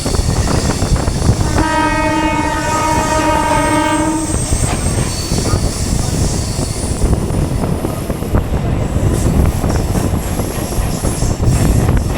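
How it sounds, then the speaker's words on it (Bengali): A Bandel local train passes with a loud, steady horn blast of about three seconds near the start, while heavy wheel and carriage rumble carries on close by throughout. "এই যে ট্রেনটা যাচ্ছে এটা কিন্তু ব্যান্ডেল লোকাল"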